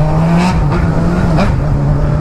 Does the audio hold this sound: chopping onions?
no